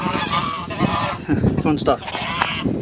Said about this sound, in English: That's the neighbor's geese